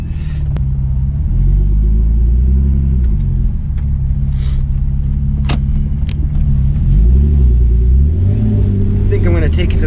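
A warmed-up Porsche 911 Turbo 997.2 with PDK transmission idles loudly and close, a deep steady rumble with a few brief rises in revs, and a voice speaks over it near the end.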